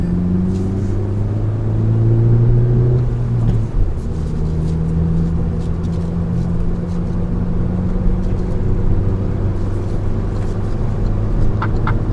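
Hyundai i30 N Line with a manual gearbox driven on the road, a loud engine drone that rises and falls as revs change through a downshift, steady tire and cabin rumble underneath and no talking.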